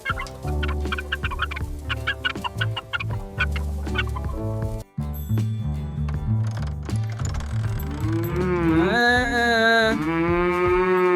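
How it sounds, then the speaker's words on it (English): A cow lows in a cartoon farm scene, a drawn-out, wavering moo rising near the end after a stretch of bouncy background music and clucking farm sounds. "Our first cow."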